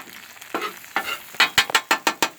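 Eggs sizzle on a Blackstone griddle while a metal spatula chops through them in sharp, quickening scrapes, about nine close, crisp strikes over the frying hiss.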